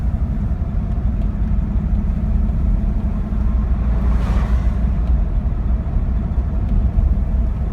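A 1965 Buick Riviera Gran Sport rumbling along a road, a steady low engine drone heard from inside the car with a faint passing swell midway, no talk.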